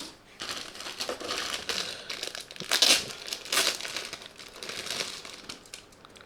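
Plastic packaging from a 1/100 steel Guntank model kit crinkles and rustles close up as it is handled, in uneven bursts of crackling.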